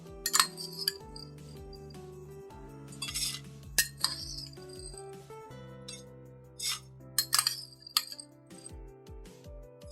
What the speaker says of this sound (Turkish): şöyle 6 yemek kaşığı dolu dolu karanfil ekliyorum